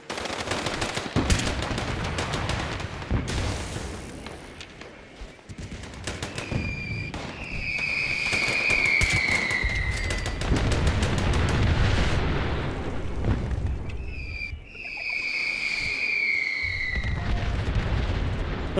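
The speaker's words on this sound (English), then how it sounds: "Oh, you gotta love so many explosions in the morning." Explosions and gunfire in the video game Fallout 76: rapid bursts of automatic fire and heavy booms follow one another, with whistling projectile streaks passing over a loud, continuous battle din.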